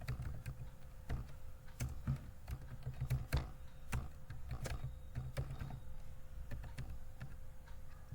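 Typing on a computer keyboard while entering data into an Excel sheet: quiet, irregular key clicks with a few louder taps, steady and close, over faint room hum with no one speaking.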